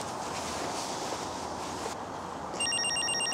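A telephone starts ringing near the end, a bright repeating electronic trill over a quiet room with soft rustling and background hiss.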